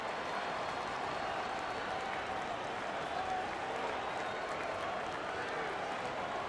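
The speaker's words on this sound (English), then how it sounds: "Let's give a round of applause for your Clippers." Dense, steady applause from a large crowd in an NBA 2K25 playoff basketball game fills the whole stretch, even and continuous like a packed arena clapping.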